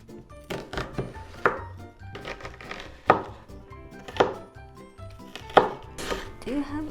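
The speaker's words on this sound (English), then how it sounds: "Then roughly chop a large onion." A knife roughly chops a large onion on a cutting board, giving irregular knocks and thunks in short bursts, close and clear, with some kitchen clatter and a voice speaking softly beneath.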